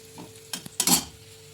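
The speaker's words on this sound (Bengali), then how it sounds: "পেঁয়াজটা যাতে ভালোভাবে ভাজা হয়" Onions fry in a pan under a low sizzle, broken by a few quick, close scraping stirs with a utensil.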